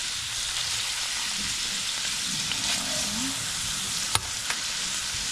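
Chopped onion, sweet pepper, garlic and green onion sizzle steadily in a pot as they are stirred in, with a close, even hiss and a couple of sharp utensil clicks near the end.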